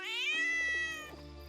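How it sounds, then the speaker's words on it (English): In the video game SwordHaven, a cat gives a single long, clear meow that falls slightly in pitch, loud and close, with no speech over it. "Cat."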